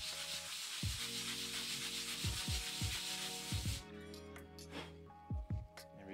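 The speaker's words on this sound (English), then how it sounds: "We're going to keep moving it in circles so we don't get really bad gouges, sandpaper lines." Hand sanding a wooden drawer front of a bandsaw box with sandpaper moved in circles, a steady close scratchy rubbing that runs continuously before easing off, with a few brief knocks near the end.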